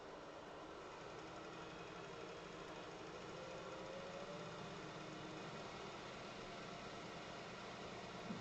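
A wood lathe turning at about 1000 RPM with a freshly sharpened 3/8 spindle gouge nearby, producing a steady, continuous motor hum and rumble with faint vibration throughout.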